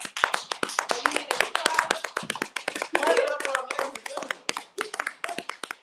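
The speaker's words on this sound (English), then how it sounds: "He's going to do his own applause." A man seated on a couch claps for himself, sharp hand claps tapping out an uneven run of several beats close by, with people talking over and between them.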